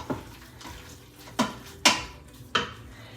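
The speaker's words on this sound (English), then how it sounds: "So let's get in the garlic first and give it about 30 seconds to start cooking. We'll stir that all up." Minced garlic is stirred in an Instant Pot, a spoon knocking and scraping against the metal insert in four or five sharp clinks spaced irregularly over soft sizzling, near and moderately quiet.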